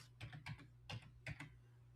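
Keystrokes on a computer keyboard, typed in a few small bursts of clicks with short pauses between them, close and fairly quiet over a low steady hum.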